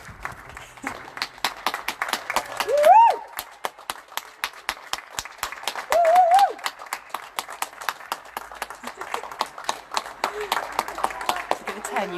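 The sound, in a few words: neighbours applauding key workers at 8 o'clock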